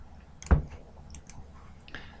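A computer mouse button gives one sharp, close click, followed by a few fainter ticks and clicks over a quiet background.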